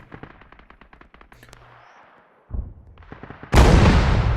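Artillery gun firing rounds in a co-op video game on the Podagorsk map: sharp repeated gunshot-like bangs in the first half, then a heavier blast at about 2.5 s and a loud, sustained boom from 3.5 s, close and dominant.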